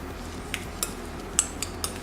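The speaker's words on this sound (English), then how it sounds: "Set that aside and just mix" A utensil clinks against a bowl while ricotta is mixed, a handful of light, sparse taps and scrapes close by, with no talking.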